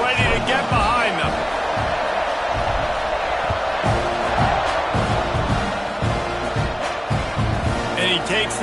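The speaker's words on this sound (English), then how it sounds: "They're set to kick it off, and this crowd now ready to get behind them." A football stadium crowd roars steadily and loudly just before a kickoff that follows an extra point, a dense, continuous wall of cheering with voices running over it.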